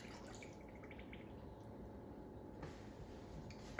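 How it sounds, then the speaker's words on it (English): A cup of water pours onto salt in a mixing container for homemade paint, giving a soft, faint trickle and light dripping that ends with a small splash. The pour sounds close and quiet. "Now I'm gonna do right here, pouring in my cup of water."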